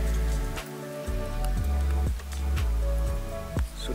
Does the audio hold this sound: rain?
yes